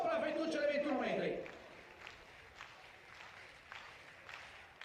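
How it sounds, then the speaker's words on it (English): Scattered crowd clapping at an outdoor World Athletics Continental Tour Bronze meeting in Lignano, Italy, faint and sparse. It follows a loud stretch of talk at the start. "I think there's a few Slovenian supporters in the crowd, judging from the clapping and support"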